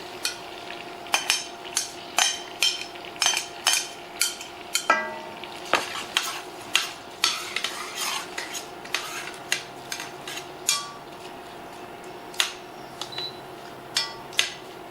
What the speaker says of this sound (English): And then we'll throw our sausage in. And we'll take our red onion, dump that in.